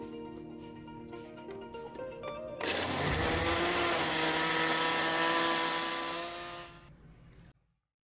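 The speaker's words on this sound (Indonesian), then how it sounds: "Di sini saya menggunakan food processor biar lebih cepat." A food processor grinds spice paste for chicken satay with peanut sauce, a loud steady whirring motor that starts abruptly after a few seconds of quieter kitchen noise, runs continuously, then cuts off near the end.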